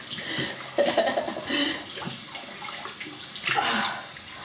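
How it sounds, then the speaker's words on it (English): A shaving brush is soaked and swished in water, giving faint, intermittent splashes and trickles close by in a quiet room. "let me just soak the brush"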